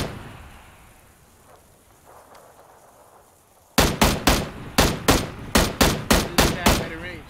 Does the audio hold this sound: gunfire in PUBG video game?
yes